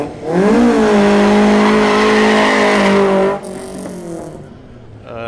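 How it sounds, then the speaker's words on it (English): A car does a tire burnout, loud and close: a sustained engine roar with screeching tire squeal for about three seconds, then the engine drops back to a lower idle and revs again at the end. "Not so nice burnout of the boys"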